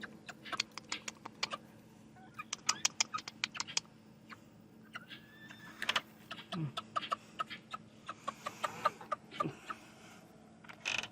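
Bantam Cochin chickens cluck and peck near the listener. Quick irregular ticks and soft clucks come in clusters over a low steady hum.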